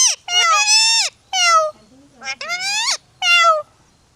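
A pet parrot imitating a cat's meow, giving several loud, close, drawn-out meows in a row with short pauses between them.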